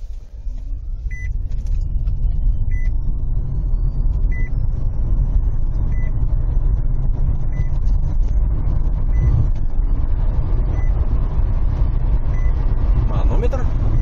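A car accelerates on asphalt with a loud, steady low engine and road rumble that runs throughout, while a faint repeating electronic beep sounds about once a second.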